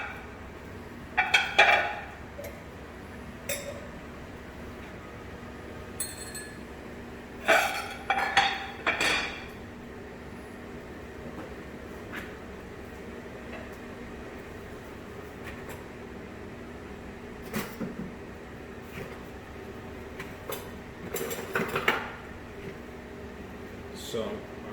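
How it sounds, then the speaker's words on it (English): Plates being grabbed in a kitchen clink and clatter in a few short bursts against a steady low hum, with a person talking in between. "I'm going to grab my plates"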